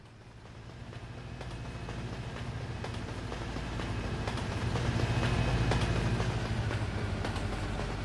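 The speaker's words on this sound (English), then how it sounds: "I hear a train." A train passes in a trucking simulation game, its rumble and rhythmic clickety-clack of wheels swelling steadily louder and staying close toward the end.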